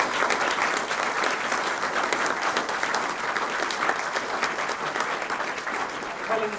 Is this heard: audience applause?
yes